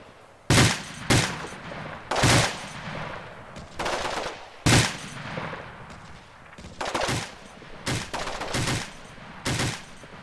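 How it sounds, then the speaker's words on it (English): Bursts of machine-gun and rifle fire from weapons teams in a war strategy video game, roughly eight sharp volleys at irregular intervals, loud and close, each trailing into a rolling echo. "the first real aggressive moves of the battle begin, as fire is placed on several prominent buildings by the weapons teams"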